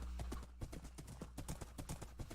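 Rapid video-game horse hooves clip-clop in a steady trotting rhythm, close and clear over a low continuous hum, with no talking.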